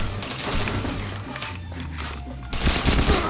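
Rapid gunfire from a video game, dense bursts of shots running through the whole stretch with a louder flurry near the end, no talking.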